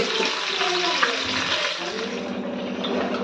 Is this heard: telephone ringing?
no